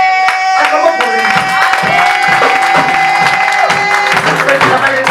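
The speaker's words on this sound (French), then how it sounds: "Acclamons pour lui." A church congregation cheers and applauds during a service, with loud, sustained clapping and shouting over a steady tonal backing that runs the whole time.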